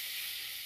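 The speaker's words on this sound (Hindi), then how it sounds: "थोड़ा सॉटे कर लेते हैं।" Diced onions and green chillies sautéing in a pan, a soft, steady sizzle and hiss heard alone for a brief moment.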